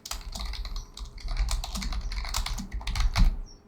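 Fast, continuous typing on a computer keyboard, entering a seed for a Monster Train 2 community challenge; dense close clicks and clacks for several seconds with no voice over them.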